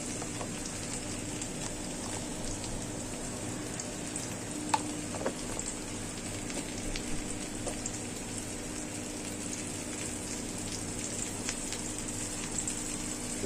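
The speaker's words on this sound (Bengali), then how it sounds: "দুন্দুলকে ভাজি করবো কারণ পেঁয়াজ পুড়ে যাচ্ছে" Sponge gourd (dundul) frying with onions in a pan gives off a steady, soft sizzle throughout, with occasional faint clicks of stirring and no talking.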